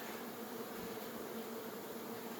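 Honey bees hum in an open hive frame during a July inspection, a steady, dense drone with no breaks, close and even throughout.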